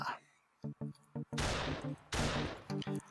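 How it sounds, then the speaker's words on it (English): Machine gun fire in a retro-style first-person shooter, short bursts of clipped shots in quick rhythm between two loud, sweeping blasts, close and punchy. "I'll stick with a machine gun."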